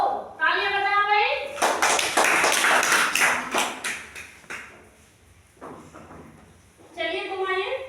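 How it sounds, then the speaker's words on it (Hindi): Schoolchildren in a classroom break into a few seconds of scattered, lively clapping, framed by a teacher's voice talking just before and after. "तालियां बजाओ भाई"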